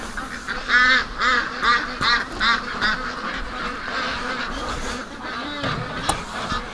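Several geese circling over a lake give repeated loud honks in an irregular series while ducks quack nervously alongside, the calls overlapping against faint outdoor ambience.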